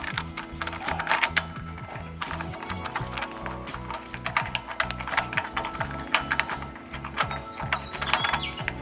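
A ratchet tightens the clutch bolts on a Honda Civic race car's flywheel, giving rapid close clicking strokes in repeated bursts with short pauses between bolts, steady and fairly quiet with no talking.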